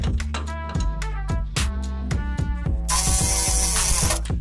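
A speed wrench ratchets on an automotive stud, giving a close, loud run of rapid metallic clicks in bursts, with a harsher grinding rattle near the end.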